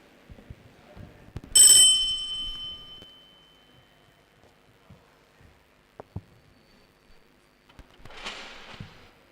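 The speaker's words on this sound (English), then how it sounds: "at the sound of the bell, you begin." A single bright bell strike signals the start of timed work at a student contest, ringing out and fading, with scattered small knocks and a later hiss of noise in a quiet room.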